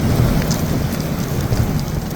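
Heavy, non-stop rain pouring during a California storm, a loud, dense, unbroken hiss with no talk over it.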